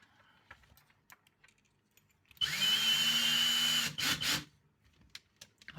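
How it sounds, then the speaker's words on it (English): A power drill whirs steadily for about a second and a half while boring into a birdbox nut dispenser part, then gives two short bursts, with faint workshop clicks before and after. "Now I have to go back for the drill."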